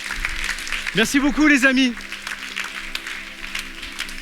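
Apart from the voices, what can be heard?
audience applause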